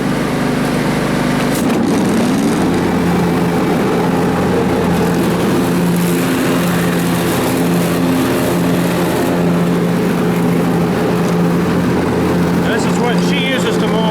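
Small John Deere X300 riding mower running steadily on a lawn, its engine droning close and continuous throughout, with people talking over it at times.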